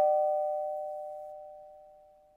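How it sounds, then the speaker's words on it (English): A doorbell chimes once, a clear sustained electronic ding ringing out alone and slowly decaying over a couple of seconds in a quiet room. "as the doorbell rang"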